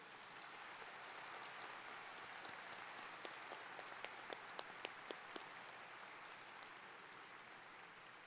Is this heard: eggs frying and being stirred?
no